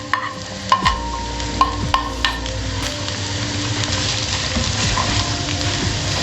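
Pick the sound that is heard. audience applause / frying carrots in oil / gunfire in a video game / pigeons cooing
frying carrots in oil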